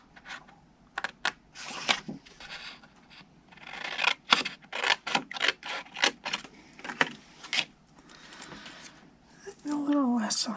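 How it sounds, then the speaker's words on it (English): Scissors snip straight across paper or cardstock for a stamped chocolate box craft, with a series of crisp, close cuts and short pauses between them. "I'm just going to cut it straight across"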